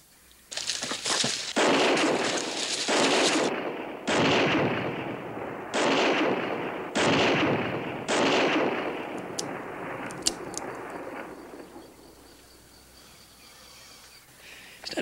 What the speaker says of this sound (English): He's firing in the air.